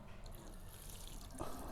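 Water poured over a motorcycle riding glove, a soft steady splash and trickle close by that swells briefly near the end, with no talking.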